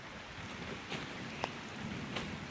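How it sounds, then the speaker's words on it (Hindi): Steady rain falls in Jed village of Kotda block in the afternoon, a constant low hiss with a few faint drop taps and no voices. "आज भी दोपहर के एग्जैक्ट 2 बजे से ये बारिश जो है लगातार शुरू हो चुकी है"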